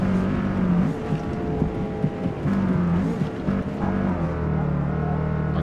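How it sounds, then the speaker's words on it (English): Engine of a racing car in Forza Motorsport heard from the chase camera, a steady droning hum with pitch rising and falling as the car speeds up and shifts, continuous and fairly loud. "it's nice how the car sounds considerably different"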